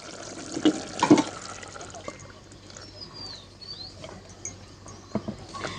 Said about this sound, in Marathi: पाणी घालून घ्यायचं